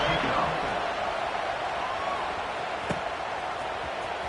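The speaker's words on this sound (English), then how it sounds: "this crowd is buzzing after that last score" A stadium crowd in an American football video game keeps up a steady broad roar, with one sharp thump partway through.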